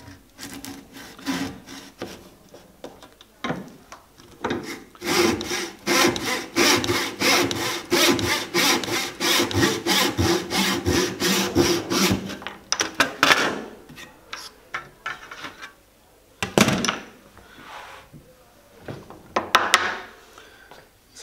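A hand saw rips through wood for a half lap joint, working in a steady, close back-and-forth rhythm of raspy strokes that runs for about twelve seconds. Scattered handling knocks follow, then a few short final strokes.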